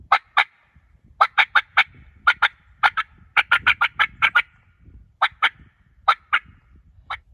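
A person imitates a hen turkey with the mouth alone, producing sharp, clipped yelps in quick runs of two to five notes separated by short pauses, loud and close with no talking.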